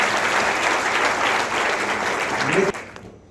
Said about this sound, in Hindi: फिर से एक बार ताली